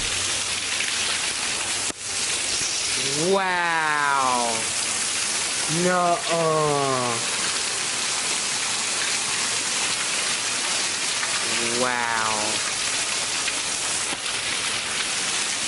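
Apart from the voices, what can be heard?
heavy rain pouring down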